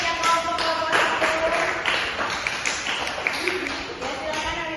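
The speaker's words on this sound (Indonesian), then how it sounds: "tepuk tangan dulu tuh hasil kerja kelompok itu." Students in a classroom clapping for a group's poster work, a loud burst of close claps with speech mixed in.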